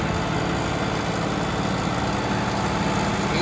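A 2023 John Deere 5075 utility tractor with roll bar and three-point hitch idles steadily up close, a continuous low diesel rumble with a faint vibration and no talk.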